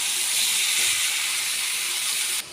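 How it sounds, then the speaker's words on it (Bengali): Shredded cabbage frying hard in a pan, a loud steady sizzling hiss that holds evenly throughout and drops off slightly at the very end, with no talking. "বাঁধাকপিটা ভালো করে কষিয়ে নিতে হবে"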